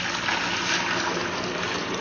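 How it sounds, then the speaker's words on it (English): Sweet tea pours into a large serving pitcher in a steady, continuous splashing stream, close and even throughout with no talking. "I'm going to pour this into my large serving pitcher here"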